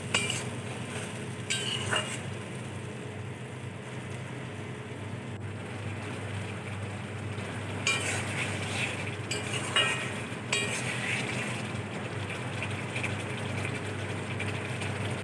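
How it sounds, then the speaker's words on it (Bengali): A spice paste for hilsa fish curry is stirred and fried in a pan, giving a low, steady sizzle. Intermittent scraping strokes of a spoon or spatula recur every few seconds, close and moderately quiet. "মশলাটা দিয়ে এবার ভালো করে নেড়ে চেড়ে কষিয়ে নেব কিছুক্ষণ।"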